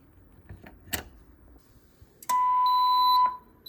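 A Gamewell-FCI E3 fire alarm system signal tone sounds: a few faint clicks and taps in a quiet room, then a single loud, steady electronic tone holding for about a second before cutting off.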